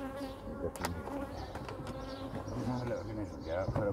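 Honey bees buzz around a beehive in the UK during feeding, a dense steady hum of many insects close to the microphone with occasional louder passes, with faint talk in the background.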